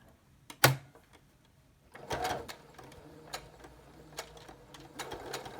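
A sewing machine stitches down an elastic hem on a fabric mask, starting with a sharp clunk, then running in short, quiet, uneven bursts of stitching with small taps and pauses between them.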